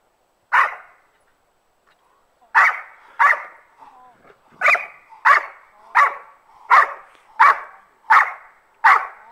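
Dog barking during VPG protection training, about ten sharp, loud barks, one early then a rapid regular series after a short gap, with a brief whine in between.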